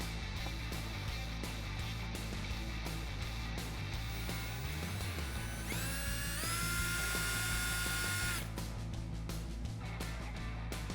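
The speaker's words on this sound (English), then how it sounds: "I'm gonna take the Phillips head screwdriver bit in the drill to loosen up those screws." A power drill with a Phillips bit whirs in short bursts with rising and falling motor pitch, interspersed with clicks and rattles of a screw loosening on a Ford F-150 tonneau cover, fairly quiet.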